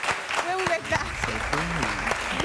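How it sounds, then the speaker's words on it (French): Studio audience applause on a French TV game show, a broadband clapping wash running under several overlapping voices talking and exclaiming throughout. "On applaudit."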